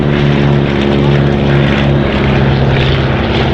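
A Focke-Wulf Stieglitz propeller aircraft of 1932 design flies at the Shuttleworth Festival of Flight, its loud, steady engine drone carrying a throbbing propeller hum throughout.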